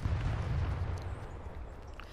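Pump shotgun fire in the Fortnite video game, a loud booming blast with a heavy low rumble that decays over about two seconds, with no talking.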